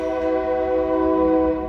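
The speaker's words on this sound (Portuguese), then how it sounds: "Passa um trem aqui, né? Do lado da minha casa," A train horn blows loud and sustained with steady harmonic tones as a train passes right beside a house wall, close by and dominating the sound.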